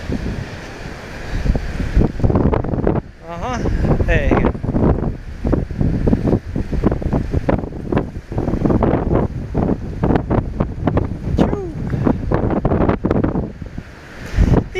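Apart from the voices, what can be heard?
strong wind blowing at seashore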